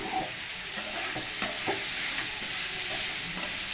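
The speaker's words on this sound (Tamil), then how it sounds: "கொஞ்சம் நல்லா மசாலாவோட நல்லா கலந்துடணும்." Beetroot is stirred with masala in a pan for beetroot poriyal. A spatula scrapes close up in short irregular strokes over a constant bright sizzling hiss.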